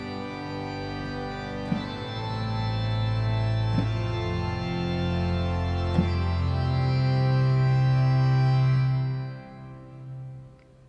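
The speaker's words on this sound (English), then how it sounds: "So that's a nice big cathedral style pipe organ." Cathedral-style pipe organ with reverb sustains broad, full chords for about nine seconds, loud and alone, then fades into a reverberant tail.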